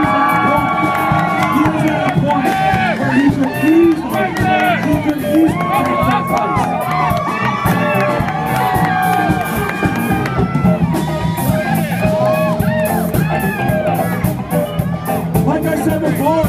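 A loud crowd cheers, shouts and whoops steadily throughout a national pizza eating championship, with dense overlapping voices forming a continuous roar that never drops out.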